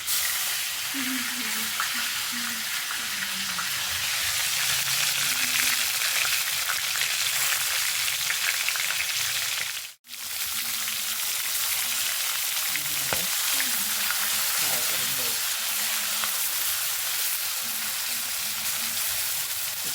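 Masala-stuffed brinjals fry in hot oil with a dense, continuous loud sizzle. The sizzle breaks off for a moment midway, then resumes.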